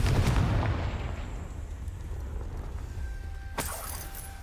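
A Confringo blasting spell goes off in Hogwarts Legacy, a loud boom at the start that fades into a long rumbling tail, with a sharp crack near the end, no talk.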